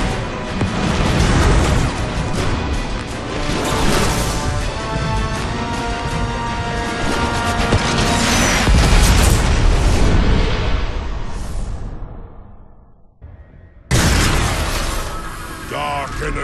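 A warship rams into a station and explodes in a Transformers: War for Cybertron cutscene: a loud, sustained roar of booming blasts and crashing debris that dies out sharply, then a fresh burst of rumble after a brief near-silence.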